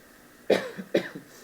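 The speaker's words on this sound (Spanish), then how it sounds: "me está viniendo carraspera" Someone clears their throat in two short, rough bursts, close and fairly loud, with quiet in between.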